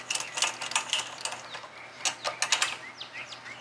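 A ratchet tightens 10mm nuts on a K&S Hornet minibike, its pawl clicking in quick close bursts with short pauses between strokes.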